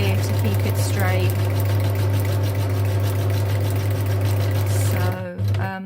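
A sewing machine runs continuously with a loud, steady mechanical hum and rapid stitching clatter, close up, then stops abruptly near the end; talking is heard over it.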